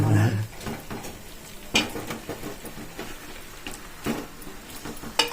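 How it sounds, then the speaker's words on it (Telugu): Fish being stirred into a hot tempering of spices in a pan for a fish curry, soft sizzling with scraping and clinks of a spoon against the pan at an irregular pace, fairly quiet. "అంటే ఆ పోపులో ఆ చేపలు కలుపుతుంది"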